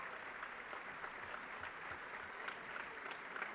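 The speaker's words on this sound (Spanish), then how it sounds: "El público aplaude, pero no pudo darle a ese peso." Audience applause fills the arena at a weightlifting final in Santiago 2023 after a Mexican lifter fails his attempt, a steady, dense wash of clapping at moderate distance with no speech over it.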